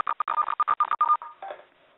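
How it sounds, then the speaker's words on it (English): Automated phone conference bridge dialing out to participants: a rapid run of about a dozen crisp DTMF keypad tones in quick succession, followed by a brief softer tone that fades out. "It's going to go ahead and call out, and you're going to hear these people join."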